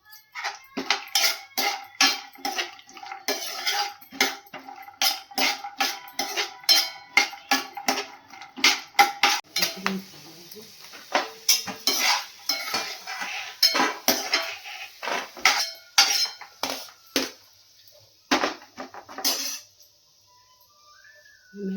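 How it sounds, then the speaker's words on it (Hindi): Cashews and almonds roasting in a pan for a Janmashtami mewa paag, heard as steady, close metallic clinks and scrapes of a spoon stirring the nuts against the pan, in uneven repeated bursts with no talk. "अभी मैं ये काजू बादाम भून रही हूँ। मैं काजू साथ साथ भून देती हूँ।"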